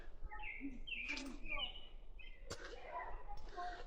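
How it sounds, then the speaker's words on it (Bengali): Birds chirp in a quiet, dense forest on a hiking trail in Banff National Park, with a few clear whistled calls over soft background and light human sounds. "খুব শান্ত, পাখির আওয়াজ পাওয়া যাচ্ছে।"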